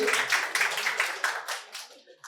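A crowd applauds a winner at a quiz competition held at Santiniketan Medical College and Hospital. Bursts of clapping come in quick pulses and then thin out near the end.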